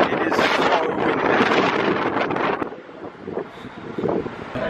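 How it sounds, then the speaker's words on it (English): Strong outdoor wind buffets the microphone in loud, rough gusts, heaviest over the first few seconds and then easing into lighter rushing. "It is so windy."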